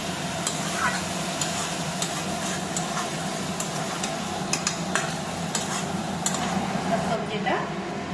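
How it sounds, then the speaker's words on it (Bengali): Vegetables with salted fish are stirred and fried in a pan, a close, continuous sizzle marked by repeated clicks and scrapes of a spoon against the pan. "সবজিটা খুব ভালো করে নাড়াচাড়া করে কষিয়ে দিতে হবে।"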